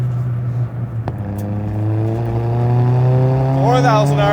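A modified turbocharged Toyota Starlet Glanza V with a 1300cc engine revs up from a steady drone into a rising, punchy climb, with a brief sharp click and a fluttering turbo sound near the end.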